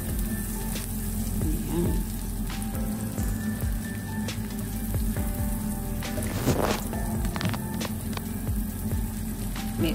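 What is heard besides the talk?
coriander stems sizzling in a frying pan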